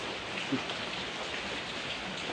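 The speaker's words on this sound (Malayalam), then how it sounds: "എന്തൊരു മഴയെ നോക്ക്" Heavy rain pouring steadily on a morning outdoors, a dense, even hiss of drops filling the whole clip with no talk and only faint bumps beneath.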